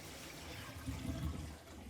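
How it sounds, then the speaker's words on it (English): Water draining from a newly installed bathroom vanity sink, a continuous gurgling rush that swells briefly in the middle and holds at moderate loudness, with no voices. "And that drained really efficiently."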